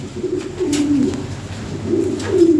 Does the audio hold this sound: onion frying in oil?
no